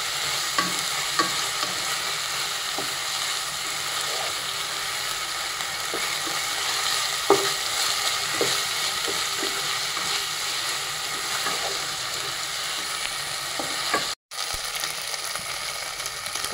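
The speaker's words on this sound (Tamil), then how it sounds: "இஞ்சி பூண்டு வாசனை போகிற அளவுக்கு நல்லா வதங்கிக்கலாம்." Ginger and garlic sauté in a hot pan, a steady close sizzle running throughout with occasional clicks and scrapes of a stirring spoon, briefly cut off near the end.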